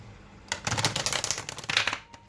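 A large oracle card deck being shuffled close up, a dense burst of rapid riffling and sliding card noise lasting about two seconds with no talk over it.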